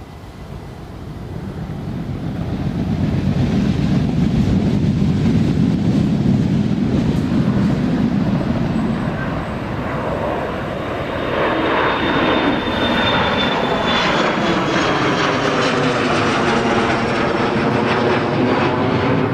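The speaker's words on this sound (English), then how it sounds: "here's the Loganair Embraer 145 Golf Sierra Alpha Juliet Sierra to Southampton." Loganair Embraer 145 jet taking off at Newcastle Airport in a crosswind, engine roar swelling near and loud, then a rising whine as it climbs and recedes, with a continuous deep rumble underneath and no talking.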